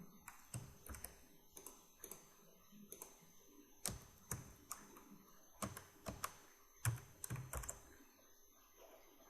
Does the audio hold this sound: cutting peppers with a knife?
no